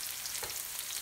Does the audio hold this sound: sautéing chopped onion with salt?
yes